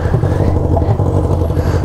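A loud motorcycle rumbles close by, a steady dense engine roar filling the short moment with no talk over it.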